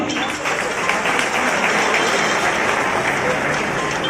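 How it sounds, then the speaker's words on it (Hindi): Loud, dense applause fills the whole stretch at a district-level MP sports competition, steady and close with no breaks. "जोरदार तालियां"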